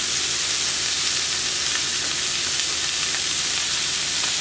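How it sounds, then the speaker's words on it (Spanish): Chopped onion and chile fry in a pan with a steady, close sizzle and crackle that runs unbroken the whole time with no talking. "para que se cocine la cebolla y el chile"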